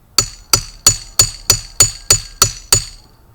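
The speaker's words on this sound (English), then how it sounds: "Use the wedge. And it's going to cut right into this thing." A steel wedge is hammered into a concrete block, nine sharp metallic blows ringing at a steady, even rhythm about a third of a second apart, loud and close with no talking.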